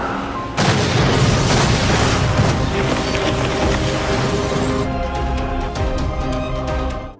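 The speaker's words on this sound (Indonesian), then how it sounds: "Namun lagi-lagi mobil meledak." A car blows up in a film scene, a loud sustained booming blast that bursts in suddenly and rumbles on for several seconds, then fades with scattered crackling debris.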